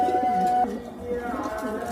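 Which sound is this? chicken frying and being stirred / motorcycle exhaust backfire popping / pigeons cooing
pigeons cooing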